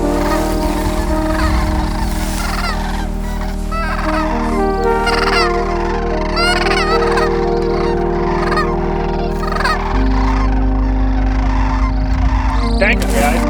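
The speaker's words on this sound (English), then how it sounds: "got some birds coming" A flock of geese honks and calls continuously as they fly in over a hunting spread, a dense overlapping chorus that stays loud and close throughout, with faint low rumble underneath.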